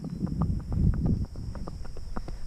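A horse walks at an easy gait on a loose rein during a training session, hooves clip-clopping in a steady rhythm close by, with a low rumble of movement underneath.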